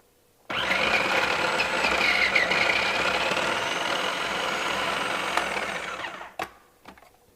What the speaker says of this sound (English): let's blend this up and get our nice lemon coconut filling